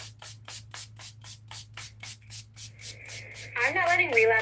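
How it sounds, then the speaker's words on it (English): Makeup setting spray hisses in a quick train of about a dozen short, even bursts close to the mic, then a voice starts talking over the last sprays. "Look, setting spray."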